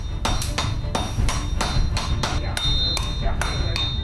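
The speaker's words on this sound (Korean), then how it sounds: "큰 망치와 작은 망치로 번갈아 두드려 쇠를 넓히면" Large and small hammers alternately strike a steel sword blade at a Chinese sword forge, about a dozen sharp, ringing metallic blows in a steady, fairly close rhythm over a low background rumble.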